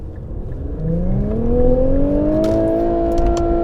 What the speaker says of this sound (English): This engine is remarkably smooth, though. You don't even hear it working when it's just idling.